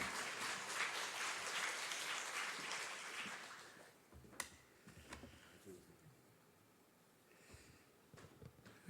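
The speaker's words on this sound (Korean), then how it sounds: "큰 박수로 환영합니다" A church congregation applauds in welcome of a visiting pastor. The dense clapping fades out over about four seconds, and a few scattered claps and small noises follow in a quiet room.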